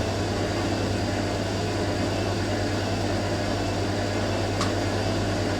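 A vintage 1980s Hoover A3060 Electronic 1100 washing machine runs through a bedding wash and shakes, giving a steady, loud mechanical drone with a low hum throughout and no voices.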